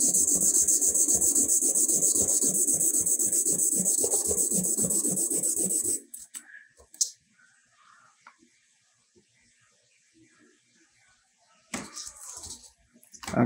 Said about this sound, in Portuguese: vai sair daqui quase polido quando eu lixar na lixa 800